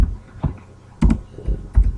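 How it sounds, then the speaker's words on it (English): Keystrokes on a computer keyboard in short irregular bursts, a few close clicks spaced through two seconds with quiet gaps between, no talking. "typing this thing on this computer is ridiculous"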